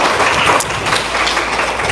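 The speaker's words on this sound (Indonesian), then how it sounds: "Boleh tepuk tangan dulu Ibu dan Bapak." A seated audience of men and women gives a dense burst of applause in a hall, loud and steady for a brief moment with no speech over it.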